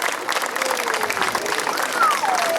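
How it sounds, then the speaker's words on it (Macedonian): An audience at an outdoor Ilinden festival event in Rusinovo claps together in dense steady applause, with a voice carrying over the crowd. "Молам уште еден голем аплауз за Зегин и за господинот Благоја Меканџиски"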